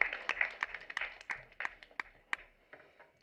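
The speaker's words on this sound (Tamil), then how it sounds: "வாங்க, ஒரு பெரிய கைத்தட்டல் கொடுக்கலாம்." A small audience claps at a movie audio trailer launch, giving a scattered run of hand claps that thins out over a few seconds, fairly faint and without voices.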